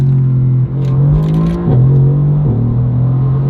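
A car engine revs hard and close through a downshift, its steady drone jumping upward in pitch with two quick throttle blips before settling back into a loud, continuous roar heard from inside the car.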